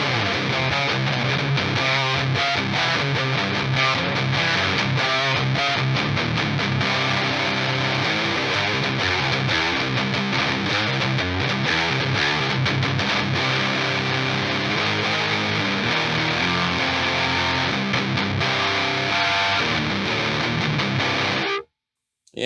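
Heavily distorted electric guitar through a Frightbox Recording HM300-style pedal, recorded direct without microphones, playing a steady, loud, continuous run of chugging chords and riffs for about twenty seconds before a sudden stop.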